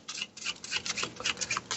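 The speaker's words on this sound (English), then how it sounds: "I drop my hand into my deck, and I'm shuffling" Cards from a DOOM board game deck being shuffled by hand, a quick run of crisp riffling ticks and patters close by for under two seconds, with no talk.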